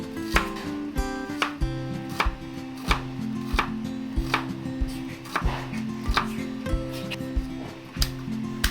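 Saba bananas being chopped into large pieces on a cutting board, a steady series of close, crisp knife strikes in an irregular rhythm with no talking.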